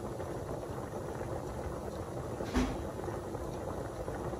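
Pasta water boils in a pot on the stove, a low, steady bubbling rumble that holds even throughout, broken by one soft knock midway.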